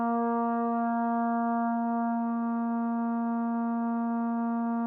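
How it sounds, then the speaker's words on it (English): Vienna Instruments solo trombone sustain sample held on one steady pitch, its loop point repeating audibly as a faint regular pulse in an otherwise unchanging, moderately quiet brass tone. "that sound you're hearing is a telltale sign that the sample is looping"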